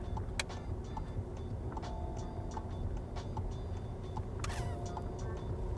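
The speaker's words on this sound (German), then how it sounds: "Nochmal blinken, wenn er halt ausgeht." A car's turn signal ticks in a steady, faint, regular rhythm inside the cabin, light clicks repeating over low road and engine hum.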